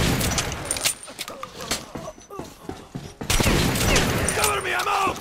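Bursts of gunfire in the video game Metro Last Light, with sharp, loud shots spread across the clip, a quieter gap in the middle, and then heavy rapid firing.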